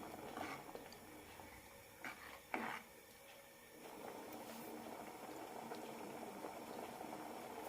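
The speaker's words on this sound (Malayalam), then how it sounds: "രണ്ട് മിനിറ്റ് നന്നായി തിളപ്പിക്കാം" Horse gram curry boiling in a pot on the stove, a steady soft bubbling and simmering hiss running throughout at close range, with a few brief louder bursts early on.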